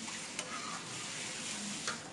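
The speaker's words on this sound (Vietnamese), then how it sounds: "Mình sẽ quậy cho nó sôi" A pot of coconut milk being stirred as it heats toward a boil, giving a steady close-up scraping and bubbling hiss with two faint utensil clicks against the pot.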